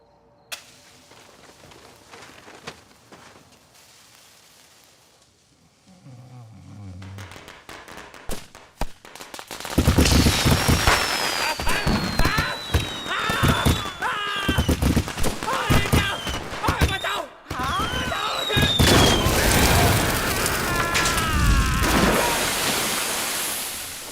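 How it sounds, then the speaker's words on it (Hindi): Firecrackers in a movie scene go off in a long, loud, dense string of rapid cracks and pops lasting many seconds, preceded by quieter sounds. "कितने पटाखे लगाए तूने?"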